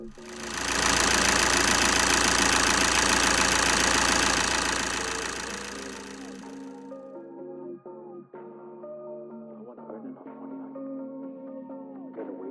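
VW 2.0 TDI diesel engine cranks and runs with a loud, rough clatter, then fades to a softer, steady idle with faint knocks and clicks underneath.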